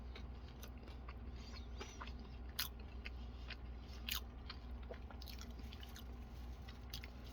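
Close, quiet biting and chewing of crispy pizza with occasional sharp crunches over a low steady hum, inside a van.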